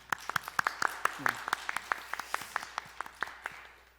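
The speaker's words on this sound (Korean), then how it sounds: "부활의 주님께 영광의 박수 오늘 함께 올려드리겠습니다" Scattered applause from a modest church congregation at an Easter service, individual claps distinct and uneven, with a faint voice briefly audible in the middle.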